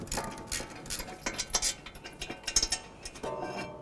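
A ratchet turning a 15mm socket clicks steadily and fairly quietly close by as it loosens the caliper mounting bolts on the rear passenger-side brake of a 2007–2014 Ford Edge, with no talking.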